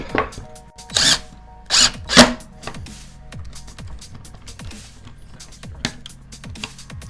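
Several short bursts of an impact driver whirring and rattling as it tightens, loud near the start then quieter, with scraping and tapping in between.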